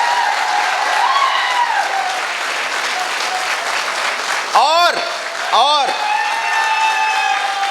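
Loud, sustained applause from an audience at a company event, dense clapping throughout with a speaker's amplified voice over it and a couple of sliding whistle-like tones near the end.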